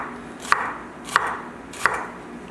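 Three sharp knife chops through an onion on a cutting board, evenly spaced about two-thirds of a second apart, close and distinct with no talking.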